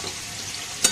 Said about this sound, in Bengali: একদিকে চিকেনের আলুটা ভাজতে দিয়ে দিয়েছি